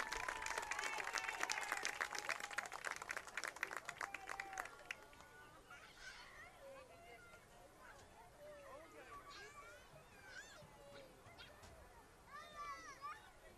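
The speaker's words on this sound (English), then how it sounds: "Please give the first row of senior band members a round of applause as they exit the field" Crowd applause and cheering from the stands at a high school football game between Rivercrest Colts and Piggott Mohawks, loud for the first five seconds with dense clapping, then fading into scattered claps, crowd murmur and distant voices.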